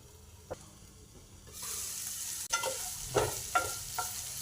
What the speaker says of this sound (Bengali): সব সবজিগুলো দিয়ে দেবো। কিছুক্ষণ নাড়াচাড়া করে সবজিগুলো একটু ঢাকা দিয়ে দেবো।